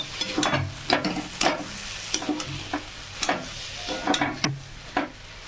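Taro root mash with shrimp frying in a pan, with a steady sizzle under repeated scraping stirs of a spatula, about a dozen strokes in an uneven rhythm, close and fairly loud.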